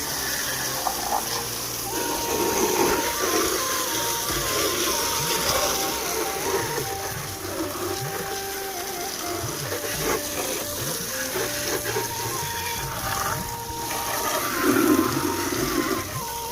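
A muddy motorcycle is sprayed with water in a village, a continuous loud rushing and splashing hiss that rises and falls as the spray moves over the bike, with no voices.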